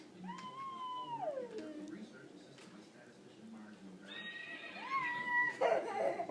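A child imitates a horse neighing, giving two drawn-out whinny-like vocal calls with wavering, falling pitch, the second higher and ending in a breathy burst, soft and close in a quiet indoor room.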